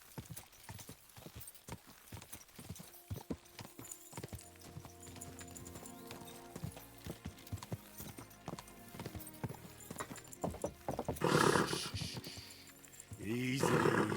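Horse hooves clip-clop steadily in the medieval game Kingdom Come 2, with a brief neigh or snort rising near the end over a background music bed.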